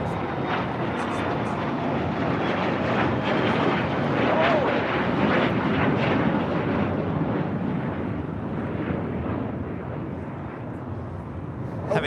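Japan Airlines Boeing 787 Dreamliner taking off on runway 24 left at LAX, a steady broad roar of jet engines throughout, loud and continuous with faint talk underneath.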